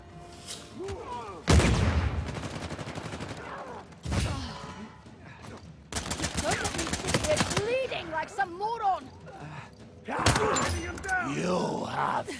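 Bursts of gunfire in Uncharted 4 multiplayer come in short, loud clusters separated by quieter gaps, while a player talks excitedly over the action.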